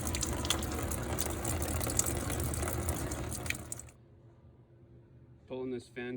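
Coolant draining from a Duramax pickup truck through its drain plug, a steady close pouring gush of liquid that stops abruptly partway through, followed by quiet and then someone talking.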